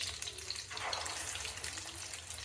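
Kebabs frying gently in a pan over low heat, a steady soft sizzle and hiss close by with no talking, continuous and even throughout.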